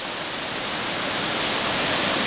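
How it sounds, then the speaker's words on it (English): Large river rushing beneath a long swing bridge in New Zealand, a steady, broad roar of flowing water that fills the whole clip and swells slightly toward the end. "Here we have Crazy Big River."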